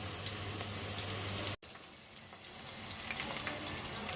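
Chicken pieces deep frying in hot oil in a kadai, a soft steady sizzle and crackle throughout, briefly cut off before resuming.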